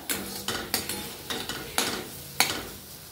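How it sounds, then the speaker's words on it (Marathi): Spice masala sautéed in a pan for a spicy Satara-style black bean curry, with a spatula scraping the pan in a steady rhythm of about eight sharp strokes over a soft sizzle, close and without speech. "आता छानपैकी हे मी परतून घेते आणि दाखवते तुम्हाला"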